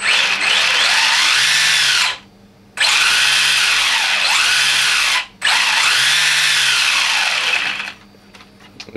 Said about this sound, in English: That's my new servo working.